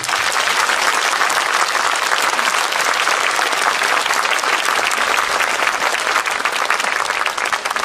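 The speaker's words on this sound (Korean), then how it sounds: "박수 한번 보내주십시오." A lecture audience breaks into loud, dense applause that runs steadily for about eight seconds, with no one talking over it.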